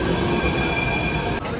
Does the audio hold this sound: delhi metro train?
yes